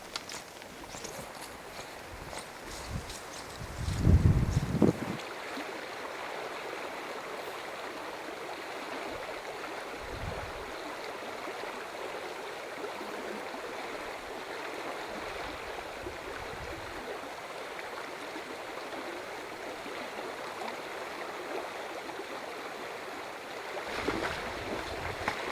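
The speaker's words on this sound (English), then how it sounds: "It is a short hike from the campground to reach the Middle Fork Flathead River." Steady broadband rush of the Middle Fork Flathead River in Montana, continuous and fairly even throughout, with a brief louder thumping passage near the start and a slight swell at the end.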